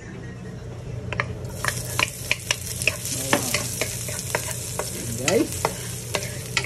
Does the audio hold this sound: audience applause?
no